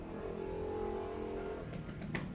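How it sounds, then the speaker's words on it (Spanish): A motorcycle engine drones close by with a steady, buzzing harmonic hum that eases off toward the end, ending in a few faint knocks. "Perdón por el ruido de la moto."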